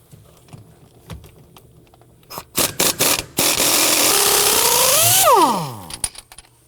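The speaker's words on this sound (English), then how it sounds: "We're going to use our 19mm socket on our impact gun to try and loosen and remove this nut." Quiet clicks and knocks, then a burst of rapid hammering rattles into a loud sustained pneumatic whir that rises in pitch and winds down: a pneumatic impact gun with a 19mm socket loosening a rear shock absorber nut on a 2003-2014 Volvo XC90.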